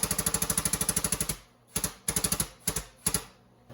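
A metal press brake bends steel tube for a custom Jeep roll cage, producing fast, loud, evenly spaced mechanical clatter that stops abruptly, then returns in short bursts.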